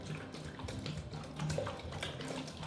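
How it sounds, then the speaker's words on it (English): Vinegar is poured into a container, a close, continuous splashing trickle of liquid that swells slightly midway, with no voices. "So go ahead and just fill your container with the vinegar."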